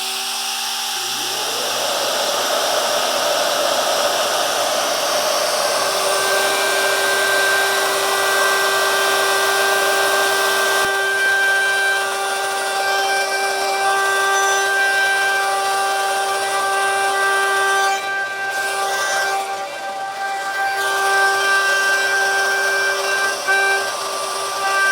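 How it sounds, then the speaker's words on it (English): Shaper Origin handheld CNC router cutting an inlay in wood, a loud steady high-pitched whine that runs the full length without pause, with a brief dip near the end. "All we have to do is start the machine and make the cut."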